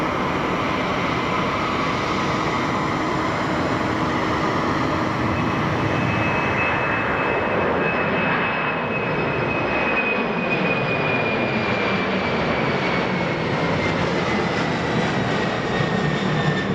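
Boeing 777X airliner arriving at Boeing Field, a loud sustained jet engine roar with a high whine that sweeps down in pitch as it approaches and passes, with no talk.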